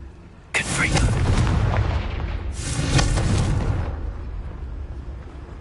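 Two booming Confringo spell explosions in Hogwarts Legacy burst out one after another, each a loud, sudden blast with a rumbling tail that trails off into low background noise.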